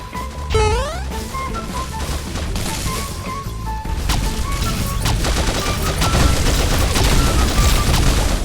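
Rapid gunfire in the online shooter Pixel Gun 3D during a tank escort match, dense bursts of shots with crashes and explosions layered over game music, loud and continuous.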